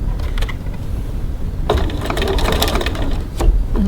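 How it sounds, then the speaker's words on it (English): A sewing machine runs a line of top stitching close to the edge of a seam, a brisk, continuous mechanical whirr heard near and alone for a few seconds. "now I'm going to top stitch 3 millimeters 1/8 of an inch from the edge"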